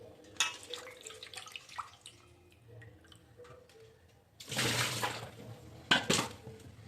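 Fish being rinsed in water by hand for cleaning, with intermittent drips and small splashes, then a louder burst of running, sloshing water, close and unaccompanied by talk.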